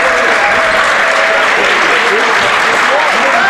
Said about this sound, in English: to a much-deserved round of applause from the student section.